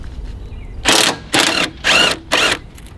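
Power tool removing bolts that hold a car strut part, four short loud whirring bursts with brief pauses between them, close up and without talking.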